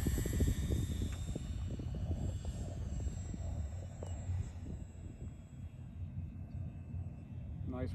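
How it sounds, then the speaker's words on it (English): An electric foam H-King FG-1 Corsair radio-controlled model airplane, 990mm wingspan, on a 4S 2200 battery, drones overhead, a steady buzzing whine that rises and fades slightly as it passes, with faint wind noise. "Timer set on this airplane for 7 minutes because it just flies so good"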